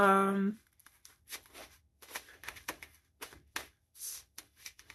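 Tarot cards being shuffled by hand make a run of quick papery flicks and taps that come in uneven bursts, close by, after a brief voice at the start.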